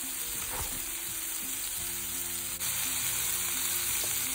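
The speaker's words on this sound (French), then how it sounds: "vous mettez dessus vos brochettes de thon. Elles vont cuire, mais d'une façon impeccable" Tuna skewers sizzle steadily on a hot griddle, a continuous close frying hiss with light scraping and stirring touches, no talk.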